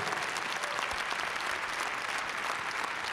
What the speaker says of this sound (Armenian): Մենք էլ եկեք բուրըն ծափահարություններով դիմավորենք բեմում